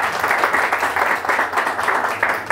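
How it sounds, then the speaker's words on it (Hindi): A live open mic audience in Chandigarh gives a steady burst of clapping for the host, a dense, even wash of many hands throughout with no voices on top. "तो एक बार भानु सर के लिए तालियां बजा दीजिए हमारे लिए"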